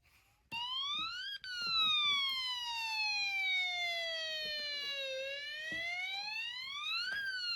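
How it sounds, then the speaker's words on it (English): A Snap Circuits alarm circuit with an electromagnet switching on and off sounds a loud electronic wailing tone that sweeps slowly down and back up like a siren, with a rapid buzzing pulse and a brief cutout near the start. "with the machine gun tone, the magnet is turning on and off"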